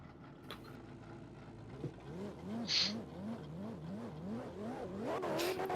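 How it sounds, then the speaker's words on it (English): A Dodge Viper drift car engine revs repeatedly at a drift championship, rising and falling through gear changes in a rhythmic wail, moderately close, with faint voices at times. "That Viper just sounds so good, man."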